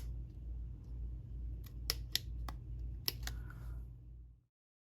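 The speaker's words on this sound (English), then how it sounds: "take some scissors and just cut slits from the edge all the way up to those holes" Scissors snip slits into material from the edge up toward punched holes, a few sharp, close crisp cuts spaced irregularly over a steady low hum, then silence.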